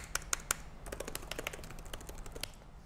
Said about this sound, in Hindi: आप यहाँ पे कीज़ की आवाज़ सुन सकते हैं